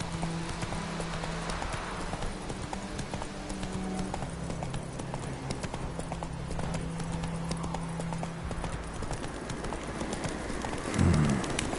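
Horse hooves clip-clop steadily at a gallop in The Witcher 3 game, a continuous rhythmic beat with faint bird calls and ambient background throughout.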